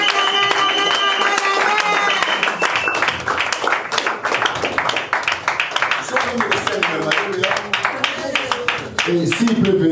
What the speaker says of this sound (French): On acclame le roi, le roi.